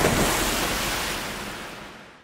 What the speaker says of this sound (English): just stops with a little bit of reverb for a moment before the splash crests over the soundscape